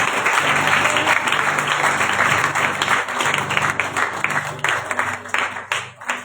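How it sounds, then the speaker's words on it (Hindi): A church congregation at a Sunday worship service claps for the Lord, a loud, sustained wash of many hands that thins out and fades toward the end. "भैया तालियां बजा लो प्रभु के लिए।"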